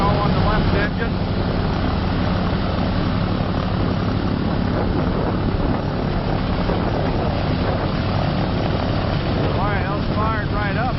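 A WWII-era aircraft's left piston engine cranks and fires up, its steady loud propeller roar filling the scene throughout, with people talking faintly underneath.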